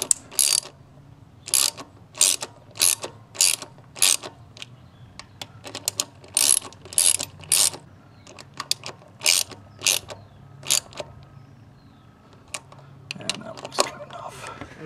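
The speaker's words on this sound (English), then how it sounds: "I have the right socket. Let's go ahead and screw them down." A ratchet and socket tighten bolts on the fuel injector of a 1.0-litre three-cylinder Geo Metro, with close, crisp bursts of rapid clicking repeated in quick strokes and short pauses between them.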